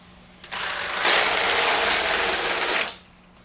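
Passap knitting machine carriage knitting a row of sock yarn, a single loud, close whooshing rasp lasting about two and a half seconds before fading out.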